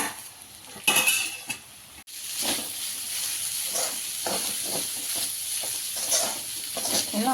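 Drained semiya tipped into vegetables frying in a pan, with a clatter of the pan and a spoon, then steady sizzling under repeated scraping and stirring strokes, close and fairly loud.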